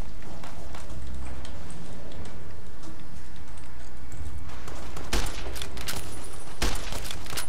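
Gunfire in the Fallout: New Vegas video game, scattered distant shots cracking through a constant noisy background, with a couple of sharper, louder reports near the end.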